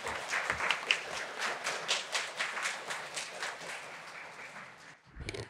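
An audience applauds after a lecture at a science and technology women leaders forum, a sustained patter of many hands clapping that tapers off near the end before a brief low thump.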